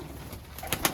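Iraqi pigeons coo softly in a brief moment, low murmuring calls with a couple of slightly louder soft notes near the end, close by and without talk.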